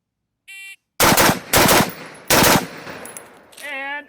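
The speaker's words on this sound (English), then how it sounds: "3 targets, 2 shots each, starting on the center target first." AR-15 rifle with a Geissele URGI upper firing during a multi-target shooting drill: three loud, sharp bursts of close gunshots in quick succession, with a shot timer's beep before them and a fading electronic tone after.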